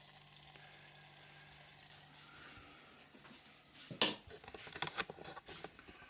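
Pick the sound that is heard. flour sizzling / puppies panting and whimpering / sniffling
flour sizzling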